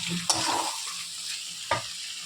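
Potatoes, onion and garlic paste frying in a pan, a steady close sizzle with two sharp scraping stirs of a spoon, and no voices.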